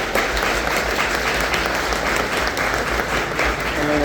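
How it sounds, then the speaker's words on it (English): Audience applause fills a Comic Con Baltics panel room: dense, sustained clapping from a large crowd, steady and loud for the whole stretch with no talking over it. "a round of applause for Sam and Tim"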